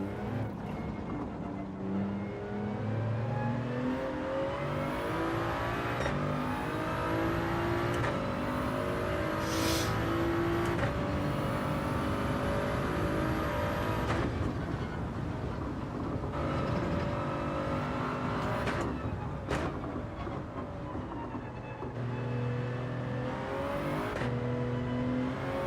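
A Toyota Supra race car in Gran Turismo 7, racing on a wet track, holds a continuous loud engine drone that rises and falls through gear changes and revs, with no talking.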